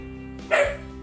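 One sharp dog bark rings out, close by, over a low steady background hum.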